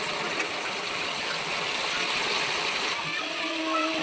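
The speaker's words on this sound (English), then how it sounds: "sprinkle this water into the frying french fries" Salt water is sprinkled into hot oil where French fries are frying, giving a steady loud sizzle and hiss that runs the whole time.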